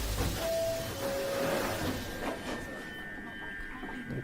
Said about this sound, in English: Got the little train sound effects.